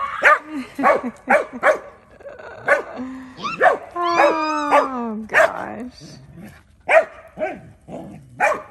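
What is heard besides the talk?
dogs barking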